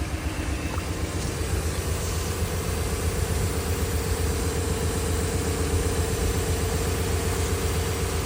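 An accident-damaged car's engine idling steadily after being started, a continuous low rumble with an even drone that stays close and loud throughout, with no voices.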